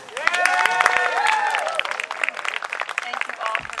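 An outdoor summer concert crowd at a park claps and cheers, steady dense applause with whoops and a few whistles, while a voice talks over it.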